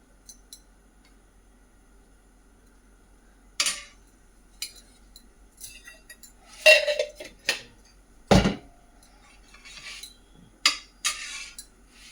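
A kadhai wok and metal utensils handled in a home kitchen while preparing ghee-fried sweets: scattered clanks, clinks and scrapes at irregular intervals, with one sharp loud knock, against near silence.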